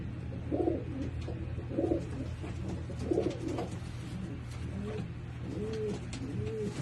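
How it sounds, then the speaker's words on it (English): A breeding pigeon hen coos in a loft, several soft rolling coos repeating at a steady pace over a constant low hum, close and moderately loud. "She's a beautiful bird."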